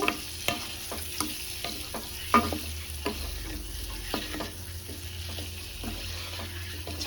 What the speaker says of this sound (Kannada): ಈ ಥರ ಮಿಕ್ಸ್ ಮಾಡ್ಕೊಂಡು ಚೆನ್ನಾಗಿ ಫ್ರೈ ಮಾಡಿ